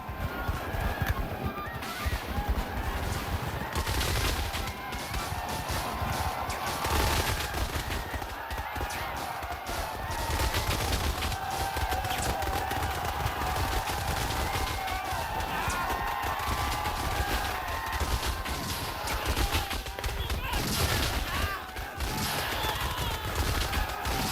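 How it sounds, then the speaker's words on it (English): The 54th regiment fires Civil War musket volleys against a Confederate advance, a dense, continuous crackle of shots and rumbling gunfire with distant shouting, loud and unbroken from start to finish. "Time after time, the 54th fires volleys to stem another Confederate advance"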